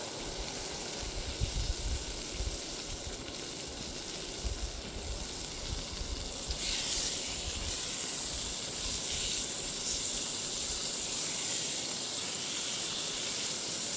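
Food sizzles fast in a very hot pan at an outdoor cook-up during a St. Patrick's Day run near Ocean Pond, a steady close hiss and crackle that swells slightly partway through, with no speech.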